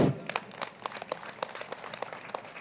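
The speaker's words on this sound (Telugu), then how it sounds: "శ్రీకాకుళం జిల్లా మాస్టర్స్ అందరికి ఒకసారి గట్టి క్లాప్స్ కొడదాం" An audience at a meditation gathering claps, sharp separate handclaps repeating in an uneven patter, moderately close and without talk.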